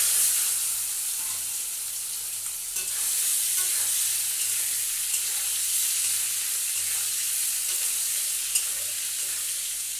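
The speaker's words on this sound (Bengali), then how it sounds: "এবার আমি সয়াবিনটাকে ভেজে তুলে নেব আগে।" Soybean chunks frying in a pan of hot oil, a dense continuous sizzle and hiss that holds steady from start to finish, close and fairly loud with no talking.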